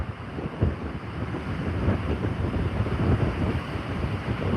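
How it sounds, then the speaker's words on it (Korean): During Typhoon Bavi on Jeju, a loud, constant roar of strong wind buffets the microphone while high waves surge and crash in the background. "파도 파도 엄청 높네요 오늘"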